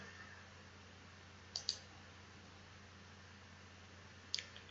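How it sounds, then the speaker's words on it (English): A computer mouse clicks in STAAD Pro structural design software: two quick pairs of crisp, faint clicks, spaced a few seconds apart, in a quiet room with a low steady hum. "Click on OK."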